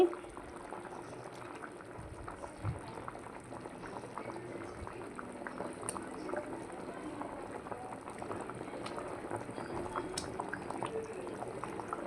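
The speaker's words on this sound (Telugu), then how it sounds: "చూసారా ఎంత బాగా మరుగుతుంది మనకి పులుసు" A thick tamarind stew with potato, okra and eggplant bubbles and pops steadily in a pot, a soft continuous simmer with small plops throughout and faint talk now and then.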